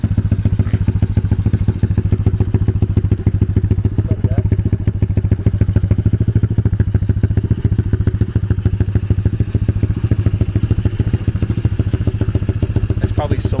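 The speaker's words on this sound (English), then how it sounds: "Don't mind the rattle. It's the sheet metal." A drift trike converted from a dirt bike runs its engine in a steady, loud, close chop, with loose sheet metal rattling and clattering throughout.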